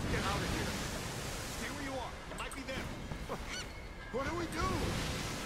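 Seagull calls from the video game Tomb Raider, a string of short rising squawks repeating near and far over steady wind and surf noise, with faint game effects beneath.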